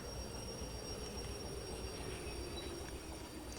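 Freight train rolling on rails in the Derail Valley video game, a continuous rumbling drone with steady wheel squeal and metallic hiss, sustained throughout without any talking.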